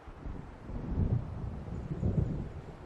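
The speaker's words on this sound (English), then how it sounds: "It seems there's a storm coming." An approaching storm in the video game Alan Wake Remastered: low, rolling thunder rumbles in two soft swells beneath a steady wash of wind, distant and fairly faint, with no voices.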